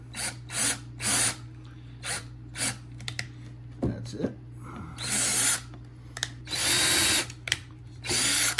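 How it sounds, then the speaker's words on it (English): A power drill drilling small holes whirs in several short bursts, then runs in longer stretches near and loud, with a brief spoken remark in the middle. "We will drill some holes, just little ones."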